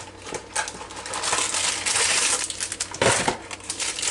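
Crinkly plastic wrapper is crushed and pulled loose from a store-bought pie crust, a close run of dense rustling and crackling bursts with sharp crunches near the end.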